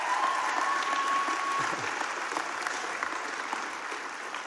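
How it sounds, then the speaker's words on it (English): Audience applause fills the room, a dense steady clapping from a crowd that holds strong throughout and eases off only slightly near the end. "Round of applause for her before I get started."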